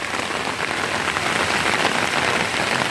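Steady rain pours down, a dense, even hiss of drops hitting surfaces with no pauses.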